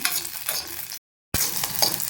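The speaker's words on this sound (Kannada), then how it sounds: "ಹಸಿಮೆಣ್ಸಿನ್ಕಾಯಿ ಒಂದು ಹುರ್ಕೋಬೇಕು" Oil sizzles and crackles in a pan as green chilies are stirred, with a short silent gap midway before the frying resumes.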